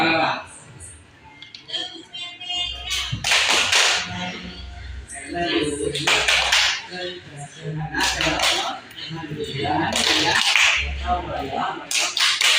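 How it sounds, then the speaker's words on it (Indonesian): A group performs a rhythmic patterned clap with a salute, sharp bursts of clapping recurring in sets while voices chant and talk between them. "tepuk dan salam PPK"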